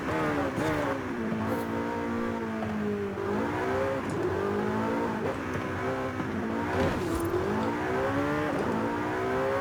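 A fast, roughly 900-horsepower tuned car in Forza Horizon 5 revs hard and loud, engine pitch climbing and dropping through repeated gear shifts over nearly ten seconds, with light tire squeal and no talk.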